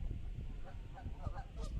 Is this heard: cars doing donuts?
no